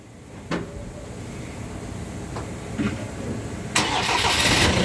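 A Ford Transit van engine with a blocked exhaust cranks and catches near the end, with a few short clunks beforehand and a steady rumble underneath.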